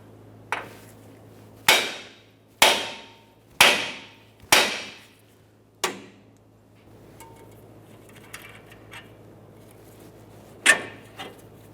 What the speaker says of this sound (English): a hammer with a couple light bonks along this area should cause vibration and break it free